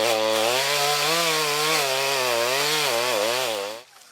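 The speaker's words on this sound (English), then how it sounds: "How the hell would I cut all this wood without a chainsaw?" A chainsaw runs at a loud, steady whine while cutting wood, its pitch wavering slightly under load before the engine abruptly drops off near the end.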